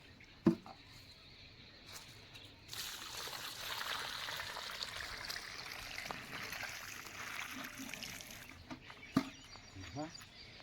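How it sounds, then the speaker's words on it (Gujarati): Water poured onto the soil around a newly planted sapling, a steady soft splashing trickle that starts suddenly and runs for several seconds, with faint birds and a few small knocks. "પછી થોડું પાણી રેડી દેવાનું"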